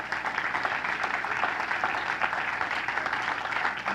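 A church congregation breaks into steady applause, many hands clapping together at moderate volume with a slightly roomy, reverberant sound that continues unbroken.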